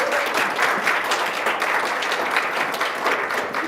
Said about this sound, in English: Another round of applause for Angela Martinez, folks.